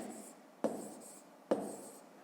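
A pen or pencil writes numbers by hand on paper for a column addition problem, two sharp taps followed by soft scratching strokes, close and quiet.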